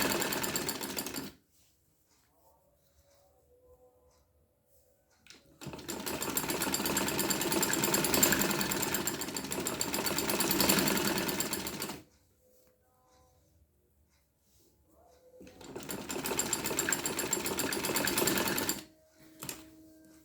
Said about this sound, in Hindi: और इस तरह से हम फिटिंग की सिलाई कर देंगे।